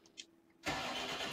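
A tractor engine in Farming Simulator 19 turns over and catches, jumping from near silence to a steady, loud mid-pitched idle that holds for the rest of the moment, with no one talking.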